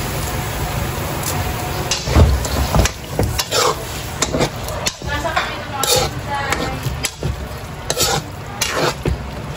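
Ground meat seasoned with pepper and salt sautés in a pan for lumpia, with a steady sizzle under repeated scraping and clattering of a spoon stirring against the pan, and a voice faintly in the background.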